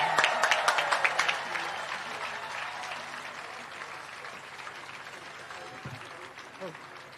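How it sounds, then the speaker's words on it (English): An audience at an outdoor main-stage nature talk applauds a guest speaker, the clapping loudest at the start and gradually thinning into a steady patter with crowd murmur beneath. "Round of applause. Let's hear it from here."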